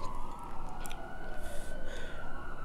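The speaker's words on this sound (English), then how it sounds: "there's this siren go by first" An emergency vehicle siren passes by in a city street, a steady wailing tone that sweeps slowly in pitch, fairly loud and continuous with no talking.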